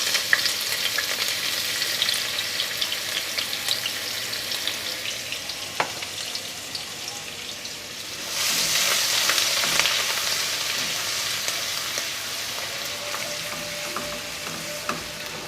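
Garlic ginger paste sizzles and crackles steadily in hot ghee in a pan, with a few sharp pops and a louder hiss surging partway through.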